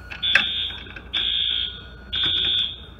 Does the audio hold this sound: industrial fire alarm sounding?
yes